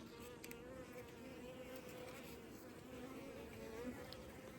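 Honeybee workers drawn to caged queen bees make a continuous close buzzing hum, faint overall with a few louder passes near the microphone.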